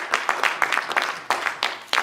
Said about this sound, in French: Bon Dieu, acclamation.